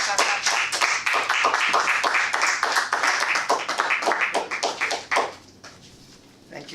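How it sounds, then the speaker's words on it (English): A Toastmasters meeting audience claps for several seconds, a dense burst of many hands that thins out and fades near the end before a lone louder clap and quiet room tone. "Clap, clap, clap, clap."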